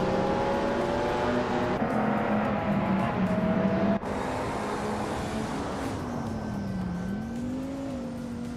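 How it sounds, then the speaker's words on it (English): A 1993 Vector W8 engine drones steadily and loudly in a racing video game, its pitch holding, then dipping and rising again with gear changes and throttle, one continuous car sound with no talk. "driving a 1993 Vector W8, which is known for its sleek design and impressive power"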